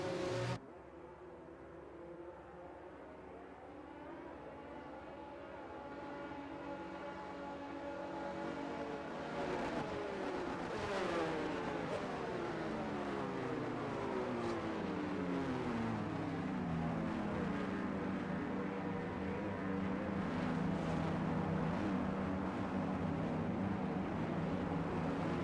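Race cars idle and rev on the starting grid in F1 22, with engine drones layered into a dense, steady rumble that builds and holds loud throughout.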